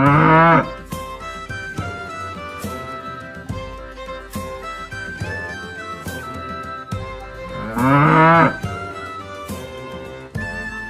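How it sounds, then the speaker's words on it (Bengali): A cow and calf moo: two loud, drawn-out calls about seven seconds apart, one at the start and one near the end, over a steady backing of music. "গয়ে গরু বাছুর দাঁড়িয়ে আছে।"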